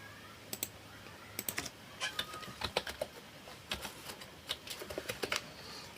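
A password is typed on a computer keyboard in quick, uneven bursts of crisp key clicks with short pauses between them, close and fairly quiet, with no voices.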